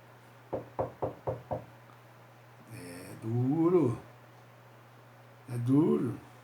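Five quick, sharp knocks on a door in a steady run, followed by a voice speaking over a low constant hum.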